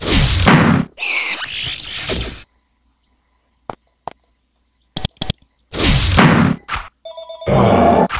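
A phone rings in two bursts of ringtone near the end, with quiet stretches, clicks and loud noise from a fantasy role-playing game (Avernum Two) playing around it.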